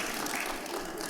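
Audience applause from a crowd at a question-and-answer event, a dense steady wash of many hands clapping at moderate distance, sustained evenly for about a second with no voices on top.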